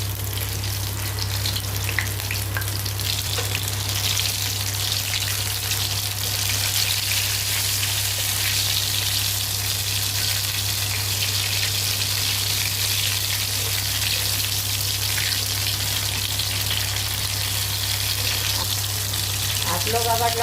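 Paneer fries in a hot pan with a loud, continuous sizzle and crackle, with occasional scraping and shifting as the pieces are turned, and no voices over it.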